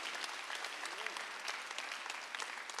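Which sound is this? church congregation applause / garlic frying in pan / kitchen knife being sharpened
church congregation applause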